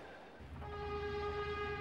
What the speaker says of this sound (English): To do that, I've got to catch the Spirit of the Outback, which is just about to leave.